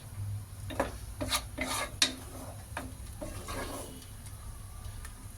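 Masala for mushroom biryani fries in a pan while a spoon stirs and scrapes it in repeated metallic strokes over a low sizzle, busier early on and calmer toward the end.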